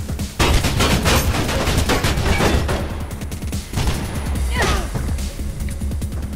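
Machine gun fire in the video game Mirror's Edge, loud rapid bursts of gunshots with crashing impacts, dense at first and thinning into scattered shots.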